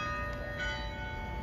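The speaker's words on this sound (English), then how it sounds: "you can still hear the bells every day here in the city" Church bells ring in Charleston, a sustained bright metallic tone hanging over a quiet background, moderately faint and without talk.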